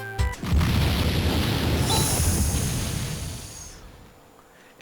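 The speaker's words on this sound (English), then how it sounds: "An explosion." A loud explosion in the video game Phantasy Star IV, a broad, sustained roar of crashing noise that holds for about three seconds, then slowly fades away.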